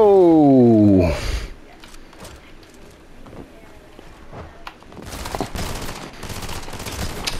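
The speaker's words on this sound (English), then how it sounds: "I hate these shotguns with freaking scopes" Scoped shotgun fire in a battle-royale video game: a loud tonal whine fades out, then after a quieter stretch of scattered thumps a rapid burst of sharp shots crackles loudly near the end.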